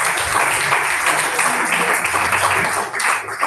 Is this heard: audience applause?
yes